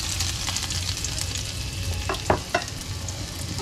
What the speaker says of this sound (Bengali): তো এবারে জাস্ট পেঁয়াজ রসুনটা ভালোভাবে ভেজে ভেজে নেব